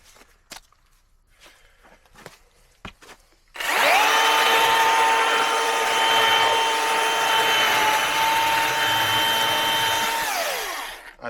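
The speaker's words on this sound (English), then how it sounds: "Let's keep cutting through this Another chunk of hardwood." A Milwaukee M18 battery-powered saw cuts through a chunk of hardwood log, starting abruptly after some quiet handling noises and then running loud and steady for about seven seconds before winding down.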